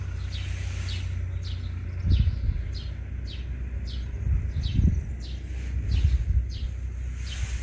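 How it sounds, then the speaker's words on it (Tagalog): Small birds chirp in a garden with tulips and rosemary, giving a steady run of short, bright, repeated calls over soft outdoor ambience with occasional low rustling. "Naglalaro yung mga ibon."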